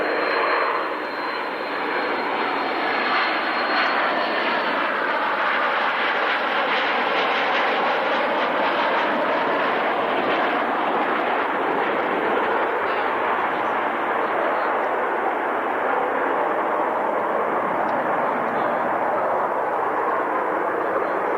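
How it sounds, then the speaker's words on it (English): Nimrod maritime patrol jet with Rolls-Royce Avon engines at the 1996 Fairford International Air Tattoo, a loud sustained jet roar that swells as power comes on during a steep wing-over, with a whooshing, shifting tone throughout and no talk. "You'll hear the power from those Avon engines coming on, as Mark, I think, will be pulling it up to"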